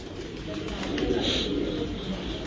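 Breeder pigeons held in the hand give soft, throaty cooing, close and fairly loud, with a faint rustle of handling and no speech.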